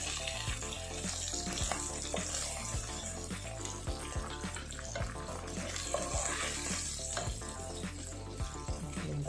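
Kanagadathalu pieces fry in hot oil in a home kitchen, a steady close sizzle and bubbling with occasional light taps of a utensil against the pan, no talking.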